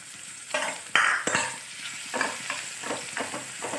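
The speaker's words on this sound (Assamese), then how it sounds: "পিঁয়াজখিনি ভালকৈ ৰঙা হোৱালৈকে ভাজি ল'ম" Onions for a restaurant-style chicken dahi masala curry fry in hot oil with dried red chillies and whole spices, a steady close sizzle broken by repeated scraping stirs of a spatula against the pan.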